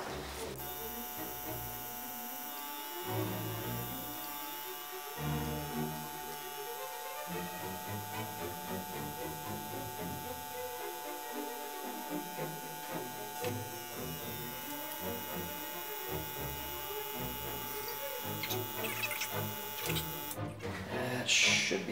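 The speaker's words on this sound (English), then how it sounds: "we're going to go ahead and get started with the vacuum filtration" A vacuum pump runs steadily through a vacuum filtration of copper carbonate in a home lab. It makes a continuous mechanical buzz and hum with a faint rhythmic pulse that holds for the whole stretch and swells slightly near the end.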